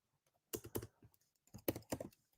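Quick keystrokes on a computer keyboard, two short clusters of clacky taps close to the microphone, soft and alone.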